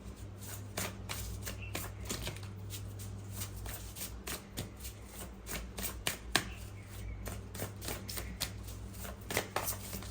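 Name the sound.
tarot cards being shuffled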